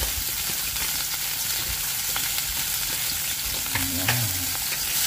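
A fish dish with pepper and soy sauce frying in a pan and being stirred: a loud, constant close sizzle and hiss, with faint scraping of the utensil and a brief clatter near the end, no voices.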